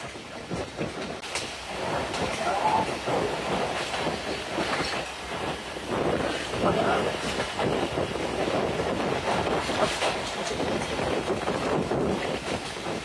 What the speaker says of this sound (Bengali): আমাদের ট্রেনটি এখন তেজগাঁও রেল স্টেশন ছেড়ে গেল